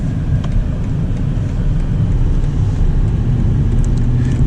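A 2023 BMW X7 Alpina XB7 with a turbocharged engine pulling from low speed, heard as a steady, loud, deep engine drone with road rumble and no voices.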